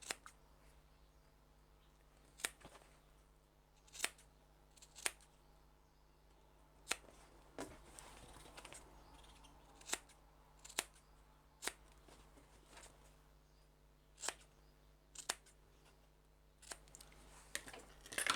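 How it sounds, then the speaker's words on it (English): Scissors trimming the fabric corners of a sewn crossbody bag: a dozen or so crisp, isolated snips spaced a second or two apart in a quiet room. "Trim your corners."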